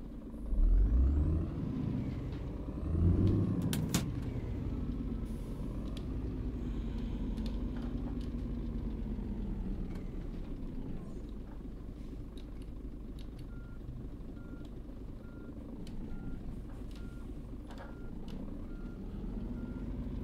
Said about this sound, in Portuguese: Agora acho que é só botar de ré aqui.